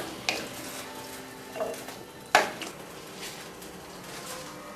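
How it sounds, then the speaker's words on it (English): Bacon bits and drippings scraped off the bottom of a pan while making potato soup: a few sharp metallic scrapes and clinks, one louder stroke midway, over a faint steady sizzle. "You want to sort of rub the bottom of your pan here, bacon flavor off the bottom of the pan"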